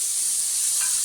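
Mustard spice paste hits hot oil with nigella seeds for a bhola fish dish, giving a steady, close, bright hiss and sizzle throughout with no voices.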